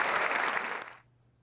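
Audience at the Teatro Massimo in Palermo applauding a staging of the opera Boris Godunov; a dense burst of clapping from a modest crowd that fades out quickly.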